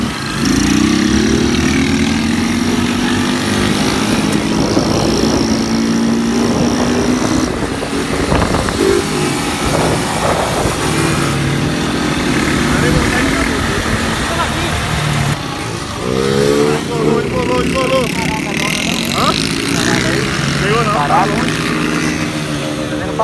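A motorcycle ridden at speed gives a loud, continuous engine drone with rising and falling revs and wind rush, heard close throughout.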